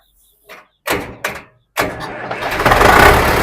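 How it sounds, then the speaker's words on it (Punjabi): A few clicks and short cranking bursts, then a tractor engine catches and settles into a loud, steady rumbling idle close by. "ਸੈਲਫ ਮਾਰ ਕੇ ਦਿਖਾਇਓ ਜੀ ਲਓ ਬਈ ਸੈਲਫ ਮਾਰ ਕੇ ਚੰਗੀ ਤਰ੍ਹਾਂ ਤੁਹਾਨੂੰ ਇੰਜਨ ਨਾ ਚੰਗੀ ਤਰ੍ਹਾਂ ਚੈੱਕ ਕਰਾ ਦਿੰਨੇ ਆ"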